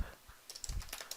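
Quick, light typing on a computer keyboard during a Spigot coding session, a short run of soft clicks close by with no voice over them.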